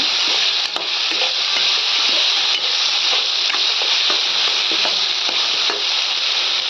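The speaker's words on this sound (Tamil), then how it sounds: "நல்லா நல்லா வதக்கி வச்சுருங்க." Masala sizzles in oil in a pan for kadamba fish gravy, with a curry leaf tempering, a steady bright frying hiss while a spoon stirs, scrapes and taps now and then, close and loud throughout with no talking.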